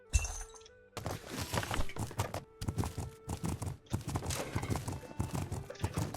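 Horse hooves clip-clopping in the video game The Legend of Khiimori, a steady run of loud, close hoofbeats with some clattering thumps and no talk.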